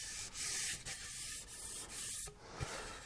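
Oak board being sanded along its edge to a bevel, a steady scratchy rasping in repeated strokes with short pauses between them, close and fairly loud with no voices.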